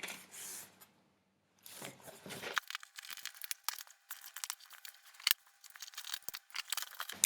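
A Fairyloot book subscription box is opened with quiet crinkling, paper tearing and rustling of packaging, close and soft, with brief pauses between bursts of handling.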